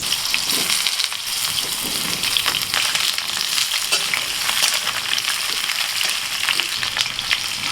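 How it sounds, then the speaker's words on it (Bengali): Potato pieces fry in hot oil in a kadai for a chicken curry, giving a loud, continuous crackling sizzle with scattered sharp pops and no talking. "এখন আলুগুলো ভেজে নেব।"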